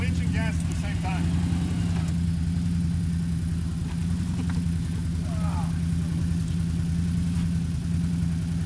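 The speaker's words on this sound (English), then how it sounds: "Go ahead and get on and winch and gas at the same time." An ATV engine drones and revs steadily while winching out of mud at an off-road park, with voices talking and shouting over the continuous motor.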